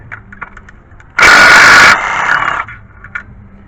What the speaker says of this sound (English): we're going to go and remove these 14 millimeter bolts